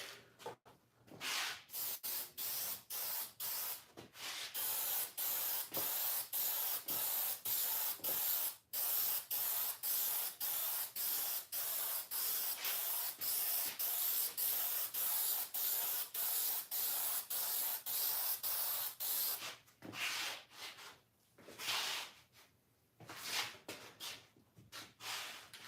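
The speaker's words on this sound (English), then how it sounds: "I obviously sprayed more there than I did on the black" Spray gun misting wood stain onto touching panels in multiple shades, a loud steady hiss broken into pulsed bursts, near and continuous for most of the stretch, then sputtering in short final passes with no talk.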